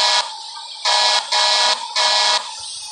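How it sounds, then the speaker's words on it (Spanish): A truck horn in Truck Simulator blares in three loud, evenly spaced blasts, each about half a second long, with quiet engine noise between them. "para poder tocar la bocina"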